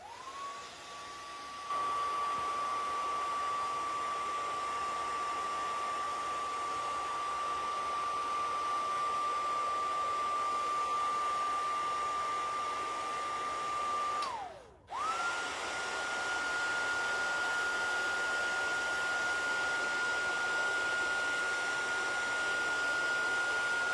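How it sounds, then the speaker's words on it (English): A heat gun blows hot air over an art journal page during crafting, a steady, loud whirring hiss with a high whine that runs for about thirteen seconds, cuts out briefly, then starts again and carries on. "And I'm gonna take my heat gun."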